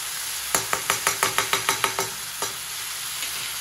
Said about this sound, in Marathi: आणि याच्यात मी सॉस टाकून घेते। हा आहे आपला सोया सॉस, हा आहे चिल्ली सॉस